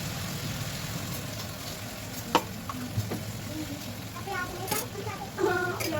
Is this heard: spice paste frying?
yes